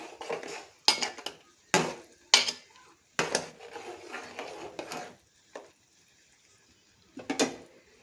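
Prawn pakora curry stirred in a pot, a spoon scraping and clanking against the metal in several distinct strokes, close and fairly loud, then quieter scrapes with pauses.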